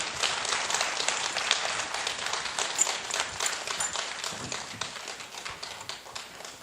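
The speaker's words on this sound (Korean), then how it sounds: "오늘 멋지게 곡을 쓴 26명의 꼬마 작곡가님들에게 다시 한번 큰 박수 부탁드립니다" An audience at a New York Philharmonic young composers' results concert in Tongyeong applauds the 26 child composers, with brisk, dense clapping that holds steady and begins to thin toward the end.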